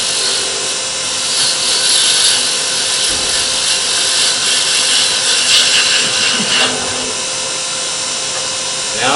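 A wood blank being trued up on a lathe gives a continuous, loud, hissing scrape of the cutting tool against spinning wood, with the lathe's steady hum beneath it.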